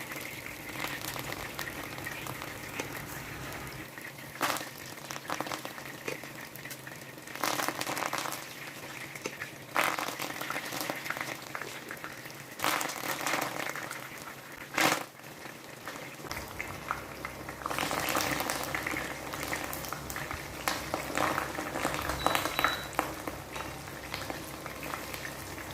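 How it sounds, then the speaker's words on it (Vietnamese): Steady bubbling sizzle of fish cakes frying in hot oil over medium heat, continuous and close, with occasional louder pops and spatters. "Mình chiên chả ở lửa vừa nhé các bạn."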